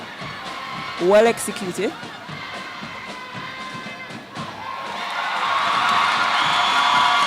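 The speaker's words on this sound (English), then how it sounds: "You definitely can hear the applause from the girls from the St. Joseph's Convent, St. George's." Girls from St. Joseph's Convent applaud and cheer at an intercollegiate sports championship. The crowd noise swells in the second half beneath a commentator's voice.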